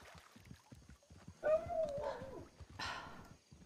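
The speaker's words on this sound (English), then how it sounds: "Fucking dogs." Dogs in the WildRP video game bark and whimper, a yelping whine rising in the middle then a couple of sharper barks, set against low rhythmic footstep-like thuds and background game noise.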